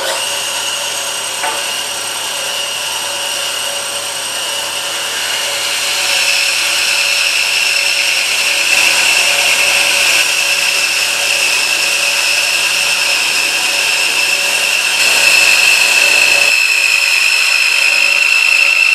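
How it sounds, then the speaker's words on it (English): A bandsaw steadily cuts a scrap plywood template, giving a continuous close whine with a bright high tone that grows louder partway through and drops slightly near the end, with no talk. "the first step is to cut it out on the bandsaw"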